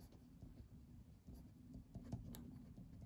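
Pen or pencil writing on paper during a Turkish lesson, a faint, continuous scratchy rubbing with small strokes close by, no talking.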